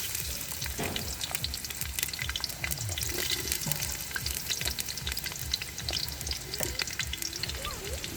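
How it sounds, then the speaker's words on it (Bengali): Onions frying in hot oil for a village picnic pilaf, a steady close sizzle with scraping stir strokes and occasional watery splashes, no talking. "তেল গরম হয়ে গেছে, এখন দিয়ে দেবো পেঁয়াজ"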